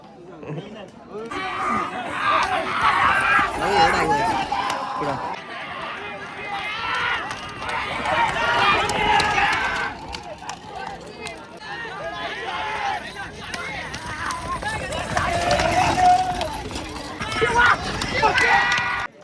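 Bullocks pull a cart at a run during a bullock cart race on the Devpada ground at Neral, with a steady rush of hooves and wheels under loud, continuous crowd chatter and shouting.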